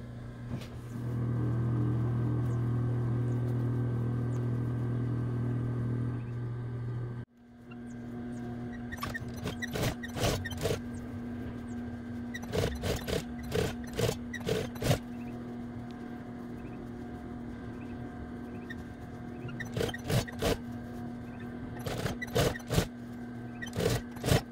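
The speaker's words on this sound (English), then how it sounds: "I am going to put it under the machine and top stitch all the way around the edges." A sewing machine top stitches around the edges of a costume chest piece for a Sonic costume, a steady motor hum running for several seconds, then stopping and restarting in short bursts of stitching with clicks between runs.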